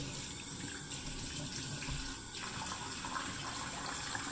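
A tap runs steadily, a continuous hiss of flowing water splashing into a sink, fairly close, with no voices.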